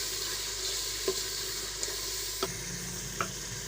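Meat (gosht) fries in a pot with crushed white cumin and dried coriander, giving a soft, continuous sizzle broken by a few light scrapes of stirring.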